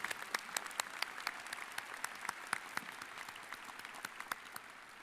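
Applause at a graduation commencement ceremony, many people clapping with distinct sharp claps standing out over a softer continuous patter, fairly distant and sustained for around five seconds.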